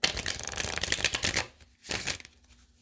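Tarot cards handled and shuffled close up, a dense papery riffle and slide lasting over a second, then a short pause and one more brief shuffle, with no talk.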